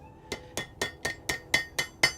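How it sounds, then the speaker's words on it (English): A hammer strikes hot metal on an anvil in a blacksmith's smithy, giving nine sharp, ringing blows in an even rhythm about a quarter second apart, loud and close, with no talking. "At this point, I can get away with using the hammer"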